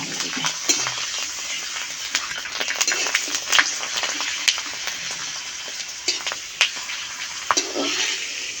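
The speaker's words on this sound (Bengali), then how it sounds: "এবার পাঁপড়গুলো ভেজে" Potato papad frying in hot oil, a dense, continuous bright crackle and sizzle throughout with scattered sharper pops and a few light utensil taps.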